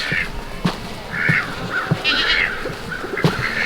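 Ducks from a small backyard flock squeezing out through a fence give a run of short, nasal quacks and honks at close range, with soft scuffing between calls.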